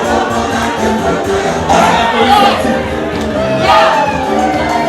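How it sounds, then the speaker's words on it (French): A wedding crowd cheers and applauds in a steady, loud wash of voices and whoops, swelling in two bursts. "Merci les applaudissements."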